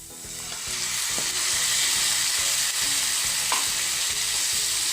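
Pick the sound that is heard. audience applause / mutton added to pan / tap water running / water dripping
mutton added to pan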